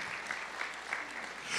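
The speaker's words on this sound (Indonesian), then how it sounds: "Tepuk tangan yang meriah bagi Dia." Congregation clapping during an anniversary church service, a brief, fairly faint burst of steady applause in a large room.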